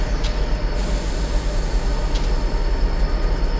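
A DTM SD45 diesel locomotive in a train simulator runs with a steady, loud low engine drone and rumble throughout, with faint higher mechanical hiss on top and no voices.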